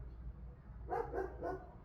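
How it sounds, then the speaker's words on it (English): A neighbor's dog barks three times in quick succession, faint and some distance away, against a quiet low background hum. "It's that same neighbor dog. He is so annoying."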